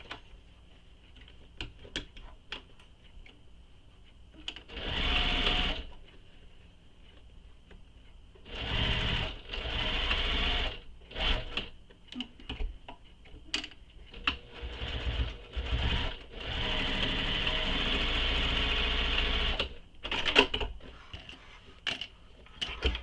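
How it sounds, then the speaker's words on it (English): A sewing machine back-stitches a fabric bag in several short whirring bursts of different lengths, separated by quieter pauses with small clicks and handling noises. It is close and moderately loud, with no one talking. "And I'm back stitching over it just for extra security."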